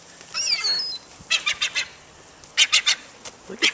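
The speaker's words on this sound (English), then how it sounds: "I think this must be every friggin' seagull in Ocean County, New Jersey" A large flock of seagulls gathered on the New Jersey shore in Ocean County, with repeated loud, harsh calls arriving in short bursts of several squawks, some near and some farther off, over light background noise.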